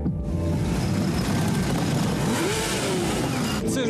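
Loud motorcycle engines roar and rev continuously at a large biker rally in Cherkasy, with one motorcycle rising and falling in pitch as it accelerates nearby.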